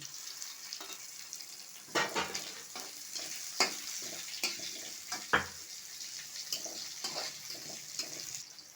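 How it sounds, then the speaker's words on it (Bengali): Soft, steady sizzle of chopped onion frying in oil with cumin, bay leaves and dried red chili, broken by a few stirring scrapes and taps; fairly quiet and close, with no talking. "এখন আমি এই যে পেঁয়াজ কুচিটাও দিয়ে দিচ্ছি"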